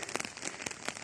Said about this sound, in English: The rain has not yet stopped